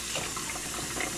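Tap water running steadily into a kitchen sink while meat is washed, a continuous broadband splashing hiss, close and even, with no talk.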